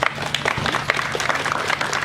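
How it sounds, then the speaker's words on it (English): A crowd at an outdoor anti-hate rally applauds a minister, dense continuous clapping at steady volume for the whole brief moment. "Let's give Minister Mack a round of applause"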